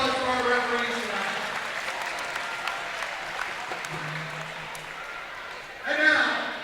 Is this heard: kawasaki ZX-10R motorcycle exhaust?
no